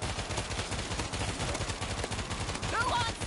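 Rapid automatic gunfire in the video game World War Z, a dense continuous rattle of shots with players talking over the top.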